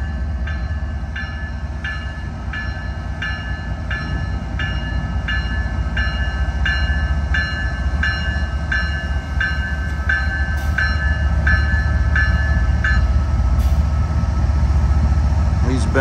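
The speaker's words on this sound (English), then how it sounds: "Now we have an eastbound Norfolk Southern freight." An eastbound Norfolk Southern freight train rolls past at Elkhart, Indiana, with a loud, steady low rumble and a regular clicking beat of wheels over rail joints throughout.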